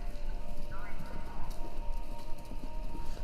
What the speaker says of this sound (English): Sounds like horses? Horses running? A race?